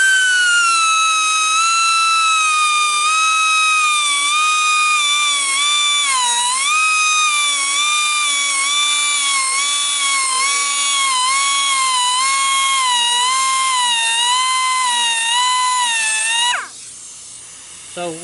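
High-pitched, steady whine of a grinding wheel sharpening a Woodmizer LT15 sawmill blade on the mill, with wavering pitch as it works, ending abruptly near the close.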